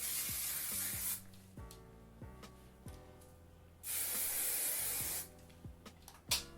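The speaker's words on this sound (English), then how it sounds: "I'm just going to lightly spray that whole undersection." Hairspray hisses from an aerosol can onto hair in two longer bursts and a few short puffs, close and fairly quiet, with soft handling sounds between them.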